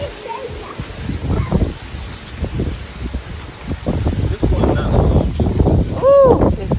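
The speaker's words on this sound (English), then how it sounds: "Look at the wind." Strong wind gusting outdoors around a family home with trees, a broad rushing roar that swells and fades in waves, close to the microphone, with people talking over it.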